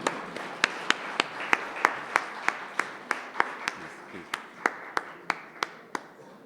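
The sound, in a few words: audience applause welcoming guests to stage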